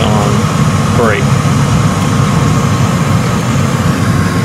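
An LP gas hot water boiler runs its purge cycle, giving a steady loud blower hum and rumble throughout with a brief rising tone early on.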